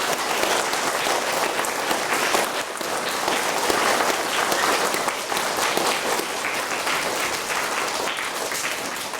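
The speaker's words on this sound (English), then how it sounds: "I think we should give them all a really, really loud clap to celebrate their" A school prize-giving audience claps loudly and continuously to celebrate scholarship winners, a dense, sustained wash of many hands with no pauses or voices.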